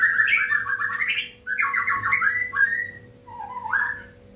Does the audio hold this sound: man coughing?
no